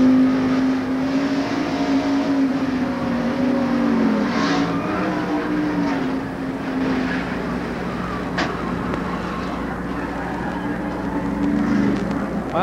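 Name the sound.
race car tires screeching and a tire blowing out, 1990 Transouth 500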